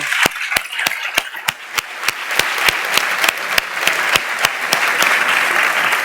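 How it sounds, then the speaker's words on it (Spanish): Audience applause closing a round-table panel debate at a legal forum, steady dense clapping with a few sharp louder claps standing out, sustained throughout at moderate loudness. "Un aplauso."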